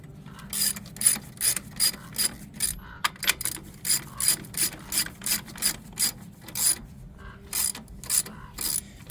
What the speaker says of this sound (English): Now you're going to tighten it up.